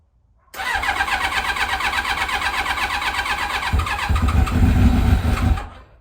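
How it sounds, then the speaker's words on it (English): An old carbureted sportbike with the choke on cranks and fires in the cold, its engine catching into a rough, loud, uneven run up close before swelling to a heavier roar near the end and cutting off. "this is probably going to take multiple tries, likely 3, 4, 5 of them before it settles into a nice idle with the choke on"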